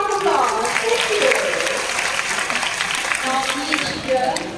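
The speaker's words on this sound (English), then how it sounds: "let's give for Quincy and Amigo a big round of applause" Audience applause at a bird show at Bird Paradise Singapore, honoring two Amazon parrots, a steady crowd clapping throughout with voices mixed in.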